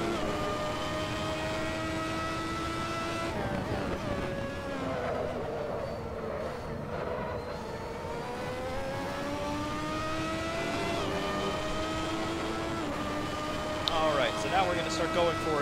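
Ferrari 643 Formula One car in Assetto Corsa, its engine droning steadily at high revs through a lap with shifting pitch and brief gear changes, under continuous talk.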